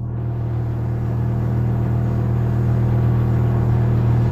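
A Datsun 240Z at speed, its engine a steady low rumble with road and wind roar, loud and close, holding a constant drone throughout.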